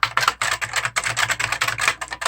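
Fast, steady typing on a heavy Futaba-switch Trigen KB103 mechanical keyboard, each keystroke a crisp, loud clack in a continuous close-up rhythm, with no voices.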